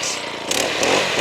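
Small gas engine with choke and throttle running steadily after the choke is turned off, a loud, close buzzing roar that rises slightly toward the end, with no talking.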